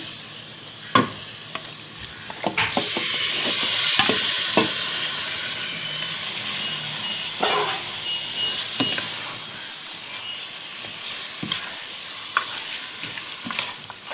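Chicken pieces fry in a pan for biryani, a loud hissing sizzle swelling after an early clatter, punctuated by repeated spoon knocks and stirring scrapes, close up with no talking.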